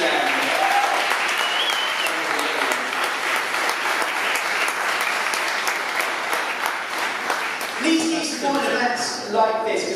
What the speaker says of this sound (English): let's give a massive round of applause there.